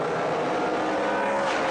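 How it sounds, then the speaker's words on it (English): NASCAR Pinty's Series race car engines roar down the back straightaway of a wide oval during side-by-side racing, a loud, continuous, dense engine howl filling the whole stretch with no voices. "Love hearing those NASCAR Pinty Series engines, that song down the back straightaway"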